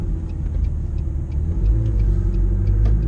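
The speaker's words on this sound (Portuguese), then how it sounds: "Você sente muito mais barulho mecânico aqui dentro." A McLaren 650S heard from inside the cabin gives a steady low mechanical engine rumble with road drone, loud and continuous, with no talking.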